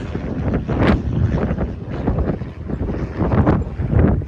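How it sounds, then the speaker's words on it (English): Steady, loud wind buffeting the microphone in gusts, a broad roaring rush with no voices. "it's pretty windy out here"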